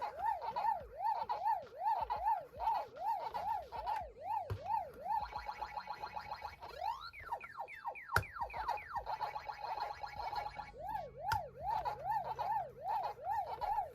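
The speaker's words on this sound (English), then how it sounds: "he will continue to play the sounds from the game" A Tamashii Nations Proplica Waka Waka Pac-Man toy playing Pac-Man game sounds: a repeating electronic warbling chomp that pauses for a run of rising sweeps and blips, then a couple of sharp electronic clicks before the chomping loop returns, fairly loud and close.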